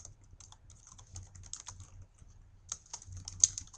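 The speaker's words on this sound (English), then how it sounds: "So we're gonna type in here with the title tag." Fingers type on a computer keyboard in quick, light clicks, entering an HTML title tag. The keystrokes come in uneven bursts, close and fairly quiet, with a brief louder flurry near the end.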